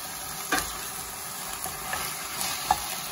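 Peas and potatoes sauté in a pan with a soft, steady sizzle, broken by a few light scrapes and clinks of stirring, with no talk over it.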